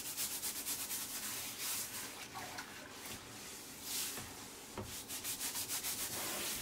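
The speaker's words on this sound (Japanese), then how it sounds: "洗剤をつけながら油を緩めて、しっかりと汚れを落としていきましょう" Greasy range hood parts being scrubbed with detergent during a professional house cleaning, a steady rubbing and brushing sound with a faint watery wash, continuous and fairly close, with no talking.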